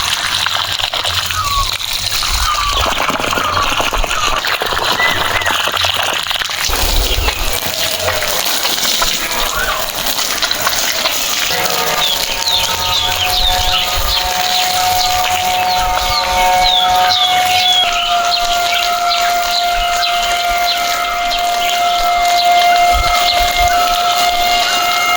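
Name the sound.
watering a kitchen garden with water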